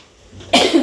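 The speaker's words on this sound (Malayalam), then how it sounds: "എന്തോ പെട്ടെന്നൊരു ചുമ" A single sudden cough from a person cooking in a home kitchen, one sharp loud burst close to the microphone after a quiet moment.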